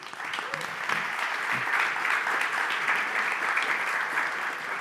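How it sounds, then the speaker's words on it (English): A crowd at a startup founders' pitch competition gives sustained applause, a close, dense wash of clapping that swells slightly and stays steady throughout. "Round of applause."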